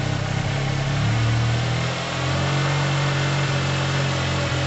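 A Yamaha TMAX scooter engine idles after a carburetor clean, a steady low hum that runs close and unbroken for the whole stretch, with only a slight dip in level partway through.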